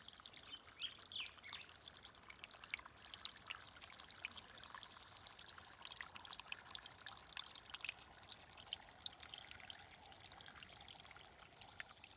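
Water trickles from a natural spring along the Pacific Crest Trail, a faint, steady babble with small drips throughout.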